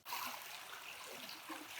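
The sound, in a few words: creek water flowing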